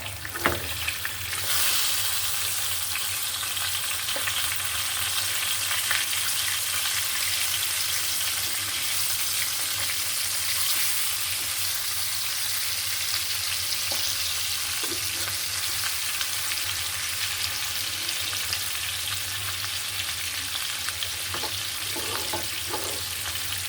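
Koi fish (climbing perch) frying in oil in a pan, a steady, loud bright sizzle that holds continuously throughout, with a faint low hum underneath and occasional small pops.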